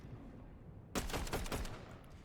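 A rapid burst of video game gunfire, several close shots fired in quick succession, loud and alone after a moment of quiet.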